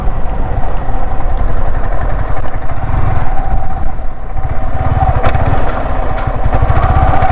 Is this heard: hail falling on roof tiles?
no